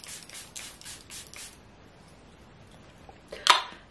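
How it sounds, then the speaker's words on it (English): Soft rhythmic shuffling early on, then quiet, and near the end a single short, sharp hiss like a quick pump of a spray bottle. "Now I'm just gonna spray."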